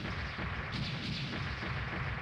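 A boss blowing apart like fireworks in the Megaman X3 video game, heard as a dense, continuous roar of rapid booming blasts, loud and steady throughout, with no voices.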